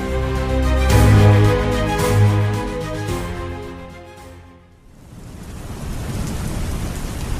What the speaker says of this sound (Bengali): বাইরে অন্ধকার, অবিশ্রান্ত বাদলের ধারা, বৃষ্টির শব্দ আর ব্যাঙের গ্যাঙর গ্যাং এক বিচিত্র সুরের সৃষ্টি করেছে।